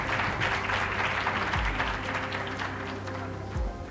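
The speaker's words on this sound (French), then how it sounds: "On peut applaudir un peu." An audience at a Trio Gagnant quiz contest between Lycée Khalil de Daloa and Lycée Mixte 1 de Yamoussoukro claps steadily for about four seconds, a dense, even patter without speech.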